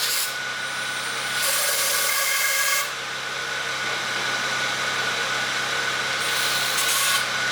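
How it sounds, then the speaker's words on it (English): Brake cleaner sprayed through a BMW 335xi factory hose during intercooler work, a loud steady hiss in two long bursts with a brief pause between them, close by and with no talking. "we're going to take the factory hose and get some brake cleaner and clean it out"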